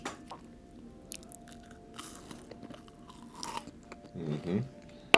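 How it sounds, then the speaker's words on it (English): Crisp crunching bites of a chocolate chip cookie, a few scattered crunches followed by louder chewing near the end, with soft voices in the background. "Bite it, I can hear the crunch."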